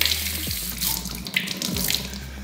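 Tap water running into a sink to moisten the mop cloth of an ETA Falco Smart robot vacuum, a steady close splashing stream with a few faint clinks, no voices.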